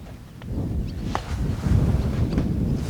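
Wind rumbles and buffets the microphone in low gusts, getting stronger partway through, with a few faint ticks above it.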